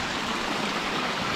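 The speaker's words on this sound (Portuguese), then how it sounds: "Tive que correr da chuva aqui, que apertou." Steady, dense rush of heavy rain pouring down outdoors near fish tanks, a continuous close wash of water noise with no breaks and no voices.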